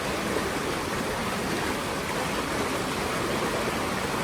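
Water gurgles and rushes steadily at a resort stream setting in Disney's Wilderness Lodge, a continuous broadband flow with no voices over it.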